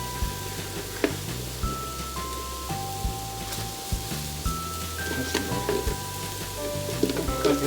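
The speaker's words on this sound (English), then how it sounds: "you should be able to hear that sizzle" Grated potatoes for hash browns sizzle steadily in a hot pan, a dense crackling hiss with occasional soft clinks and light handling sounds close by.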